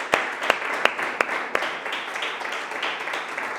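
A few sharp, scattered claps open into a steady wash of applause from a church congregation, moderately loud and continuing without voices.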